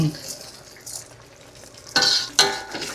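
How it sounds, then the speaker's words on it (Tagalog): Beef asado with fried potatoes is gently stirred in a pot, giving soft scraping and two sharper utensil clinks against the pot over a low simmer. "Haluin ng dahan-dahan"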